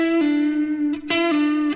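A single guitar string pulled off with the fretting finger in a sloppy first attempt at a Rockschool Grade 3 blues lick, ringing steadily with a couple of small plucks and a slight pitch dip, loud and close with no talk.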